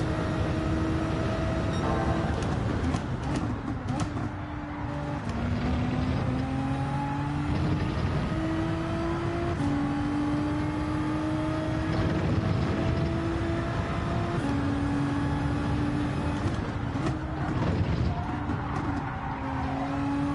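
Race car engine in the video game Gran Turismo 7, revving continuously through gear changes with rising and falling pitch, loud and close, with occasional tire squeal and skidding over twenty seconds.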